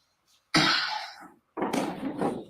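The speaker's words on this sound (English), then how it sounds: "It looks like it's because he was coughing." Two separate coughs, each a sharp harsh burst with a short raspy tail, close to the microphone with a brief silence between them.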